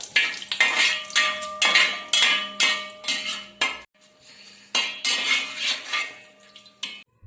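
Fried curry leaves and garlic are scooped out of a pan of oil for a peanut roast, with repeated sharp metal scrapes and clanks of a ladle against the pan in quick bursts, close and fairly loud, no voices.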